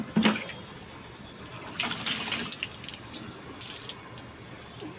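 Water poured from a container spills and splashes down onto a surface in irregular bursts, with a quieter trickle between the louder splashes, close by.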